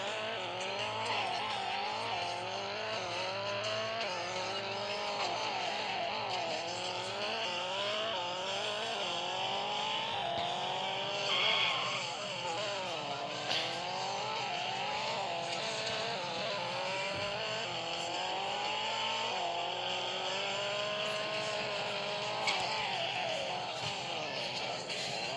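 Continuous engine roar and repeated tire squeals from car driving in the mobile game Extreme Car Driving, loud and steady throughout with shifting revs and no talk.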